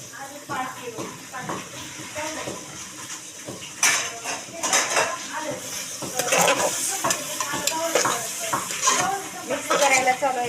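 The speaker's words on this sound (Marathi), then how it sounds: "मिक्स करायला चालू आहे एकदम मस्त" Peanuts and green peas stirred in a hot pan, a spoon scraping and clattering against metal in quick repeated strokes over a light sizzle, close, with voices talking over it.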